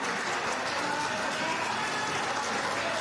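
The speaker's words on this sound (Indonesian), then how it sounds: "Ibu Airin Rahmi Yani, tepuk tangan yang meriah." Audience applause at an Indonesian parliamentary political gathering: dense, steady clapping from a large crowd, continuous and fairly loud throughout with no break.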